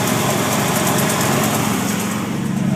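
A Ford 351 Windsor V8 engine runs close up at a steady idle, with a fast, even mechanical ticking riding over the hum throughout.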